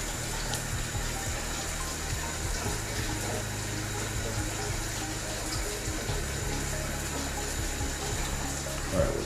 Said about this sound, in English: That's where the shower is actually hitting the back wall there, and then it's spreading out